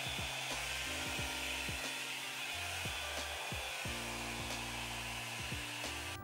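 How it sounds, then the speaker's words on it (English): A hair dryer on its cool setting blows steadily close by, a continuous rushing whoosh with a faint motor whine, and no voices over it. "you're just gonna blow dry your hair with the cool setting"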